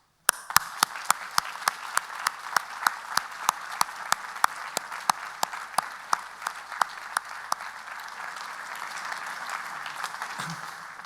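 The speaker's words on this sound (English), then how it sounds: "I wonder if you, our graduates-to-be, might join me in applauding your supporters for all they've done for you" A large audience at a graduation ceremony applauds in a dense, sustained wash of clapping heard from within the hall, with sharp individual claps standing out near the recorder and the applause fading near the end.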